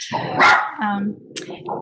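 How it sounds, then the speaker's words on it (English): A dog barks a few times at close range, loud bursts with a short growl-like tail, interrupting a man's speech indoors. "that's my dog."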